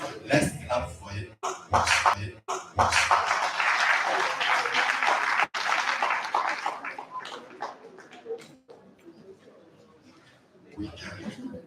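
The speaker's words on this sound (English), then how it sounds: "Let's clap for it." An audience claps after a project presentation at an in-house event. Scattered claps come first, then a steady stretch of applause that fades out, with some laughter and a voice mixed in.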